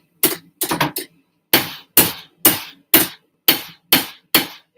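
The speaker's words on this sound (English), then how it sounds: "You can try that hammer if you want." Hammer blows on hot steel while forging a cleaver blade at an anvil: a quick cluster of four close strikes, then a steady run of about seven evenly spaced ringing hits, each sharp and loud, with no voices.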